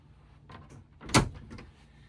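A cabinet door on a hanging locker aboard a 2006 Mikelson 59-foot Nomad yacht opens with a soft creak and a single clear knock, close and fairly quiet.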